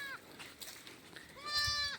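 Goats bleating at a livestock market, a couple of wavering cries, the second louder and nearer, over low background murmur.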